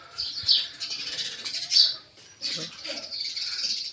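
High-pitched bird chirps twitter almost continuously, with a few flutter-like bursts, fairly close and moderately loud.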